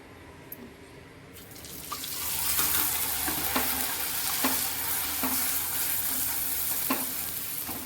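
Puri dough frying in well-heated oil, a dense bubbling sizzle that swells after a couple of seconds and holds steady, broken by a few sharp taps from a utensil pressing the puri down.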